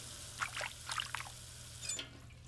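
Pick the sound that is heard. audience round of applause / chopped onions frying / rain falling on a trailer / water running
water running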